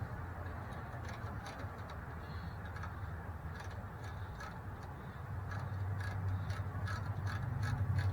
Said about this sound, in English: Now I just tighten it up with my 13 millimeter wrench.